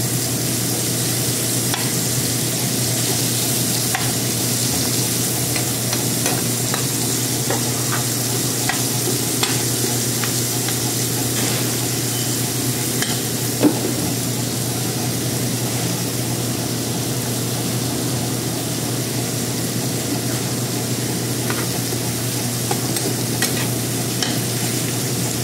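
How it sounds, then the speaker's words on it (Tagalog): Chicken adobo, a sweetened Filipino version, sizzles steadily as it is sautéed and stirred in a pan, with a continuous, fairly loud frying hiss and scattered scraping stirs over a low steady hum, with no talking. "Gigisahin natin. Gisahin ng maigi."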